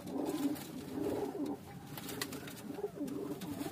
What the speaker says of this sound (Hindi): तो ये देखें, ये सारे ब्रीडर कबूतर